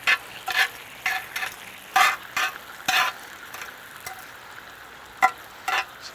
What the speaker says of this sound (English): They're really sizzling now, getting a lot of great color there.